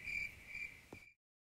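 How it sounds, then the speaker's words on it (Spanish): A hidden cricket chirps in a steady shrill trill with two brief pulses, then a soft thump before the sound cuts to silence; faint and close, with no voices. "Por el grillo escondido que nos encanta una serenata antes de dormir."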